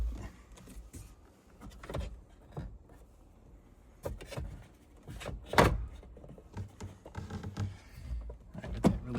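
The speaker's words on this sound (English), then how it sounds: "we're going to want to grab the steering wheel lock mechanism under here and release it" Someone works the steering wheel lock mechanism beneath the column of a Ferrari F430, producing scattered clicks, clunks and plastic knocks at close range with quiet gaps between them.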